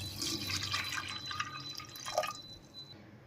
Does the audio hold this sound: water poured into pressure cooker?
yes